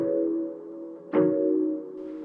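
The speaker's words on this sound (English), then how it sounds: "turn up the playback level, add some flutter, add some noise. Sounds like this." A sustained R&B sample chord run through a tape emulator, with wobbling flutter and added hiss, plays steadily and fairly loud, dips briefly, then returns after a sharp noisy attack near the middle.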